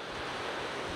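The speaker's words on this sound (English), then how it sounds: "something that may sound for all the world like we're on the coast, but it is actually Scarhouse Reservoir" Wind-driven waves lapping on Scarhouse Reservoir in the Yorkshire Dales in winter, a soft steady wash of water with low rumbling gusts, fairly faint and without voices.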